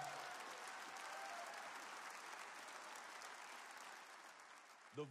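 A church congregation claps along during an Arabic-language sermon, a soft, distant, sustained patter of many hands that fades slightly toward the end.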